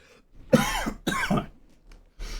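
Close coughing fit from a person during a stream, two strong raspy coughs followed by a softer throat-clearing rasp and a final short cough, loud and near with brief pauses between.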